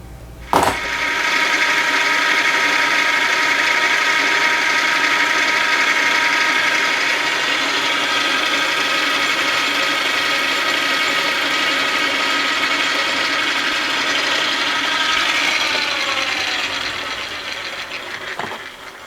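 A carbide tool facing the end of a steel bushing on a lathe, a sustained close machining whine with steady tonal harmonics, starting with a sharp contact click and tapering off near the end, with no voices.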